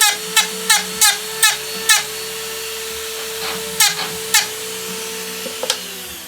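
Rotary power carving tool trimming down a small wooden charm for a bracelet, a steady high whine running throughout, broken by a regular series of sharp bursts early on and a few more later, close and prominent.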